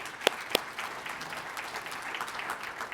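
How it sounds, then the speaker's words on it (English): Conference attendees applaud the organizers at an opening session, a moderate crowd clapping with a couple of sharp, close claps standing out near the start. "let's give them a round of applause for putting this together for us"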